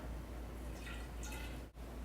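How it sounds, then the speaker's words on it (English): Homebrewed beer sample poured from a mason jar into a hydrometer jar, a quiet, brief liquid trickle with soft dripping, close and alone. "Now I'm going to pour the sample from the mason jar into the hydrometer jar."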